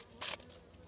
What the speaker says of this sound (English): I'm going to put these bees back now